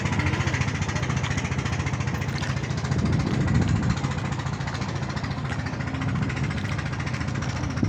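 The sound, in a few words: boat engine running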